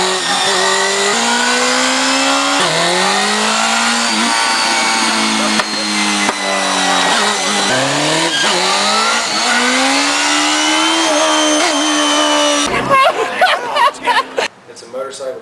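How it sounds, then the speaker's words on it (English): A motorcycle engine revs repeatedly on a dyno, pitch rising and falling in long sweeps, loud and close, ending with harsh mechanical clatter. "It's a motorcycle dyno"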